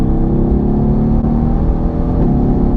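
Mercedes-AMG GT R V8 pulling hard in fourth gear on boost, a loud, steady close-up engine roar with strong low rumble building throughout, no voices over it.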